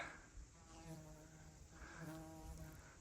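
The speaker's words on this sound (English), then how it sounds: "Lots of bugs at this view" Insects buzz faintly but steadily around a mountain-peak viewpoint on Moose Mountain's South Peak along the Appalachian Trail, several wingbeat drones rising and fading as bugs fly close past.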